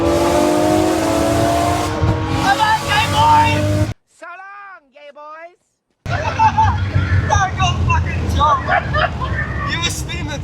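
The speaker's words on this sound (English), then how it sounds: "You were spinning the tires" Loud car engine and screeching tires from a Porsche 911 GT3 RS at a gathering of exotic cars, with crowd chatter and voices throughout and a brief quieter break midway.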